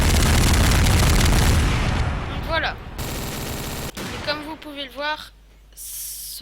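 A powerful gun in Garry's Mod fires a dense burst of loud shots in the first two seconds, followed by a short sharp blast, with someone speaking over the later part.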